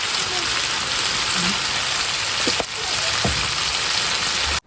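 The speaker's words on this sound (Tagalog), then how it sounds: "Ayan, luto na yung ating prinitong corned beef." Corned beef fries in a pan with a dense, steady crackling sizzle, loud and close, broken by a couple of brief clinks before it cuts off at the end.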